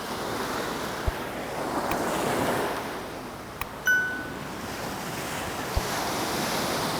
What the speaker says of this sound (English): this beach here is Koh Samet Beach by name